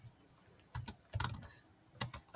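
Someone types on a computer keyboard in a note-taking template, pressing keys and the spacebar. Close, clicky keystrokes land in small clusters with short pauses, fairly quiet and with no talking.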